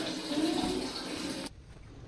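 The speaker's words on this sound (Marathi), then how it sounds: "बकेट भरली की नळ बंद कर" Water runs steadily from a household tap into a bucket, a broad continuous rush that cuts off abruptly near the end, leaving quiet room tone.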